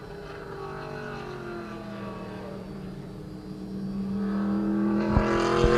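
Historic race cars roar past on the track at Portland International Raceway, engine drone swelling as they approach and growing louder toward the end.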